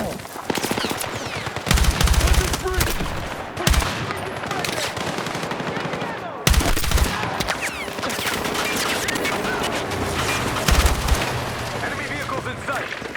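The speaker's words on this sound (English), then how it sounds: "Hostiles closing in on Site 2! Commence firing." Battlefield 6 combat fills the air with sustained automatic gunfire, rapid machine-gun bursts stacked over heavy distant booms and constant battle din, loud and dense throughout, with voices calling out beneath the shooting.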